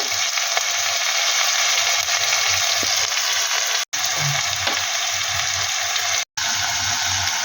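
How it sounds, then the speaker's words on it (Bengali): Onion paste tipped into hot oil and ghee for a fish kachori filling, a dense continuous sizzle and hiss held at close range, with two brief cuts to silence partway through and no talking. "তেলটা হয়ে গেছে এবার আমি এতে পেঁয়াজ বাটা দিয়ে দেব দেবো রসুন বাটা"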